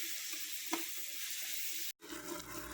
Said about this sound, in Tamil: தக்காளி கூடவே கொஞ்சம் இஞ்சி பூண்டு பேஸ்ட் போட்டுக்குவோம். நல்லா வதக்கி விட்டுக்குவோம்.